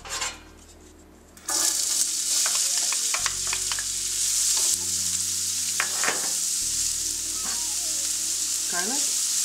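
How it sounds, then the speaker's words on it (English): Onions, garlic and sage hit a pan of sausage fat and olive oil with a steady loud sizzle. Utensils scrape and clink now and then, and no one talks. "I'm going to add a little bit more olive oil because I want to cook up the onions and the garlic and the sage"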